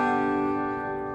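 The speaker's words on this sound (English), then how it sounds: "The banjo is primarily played in open G," A banjo in open G tuning rings out with one strummed chord, its bright open strings sustaining and slowly fading, close and alone.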